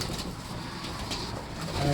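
Pigeons coo close by in a soft, continuous murmur, with a brief rise in the last moments.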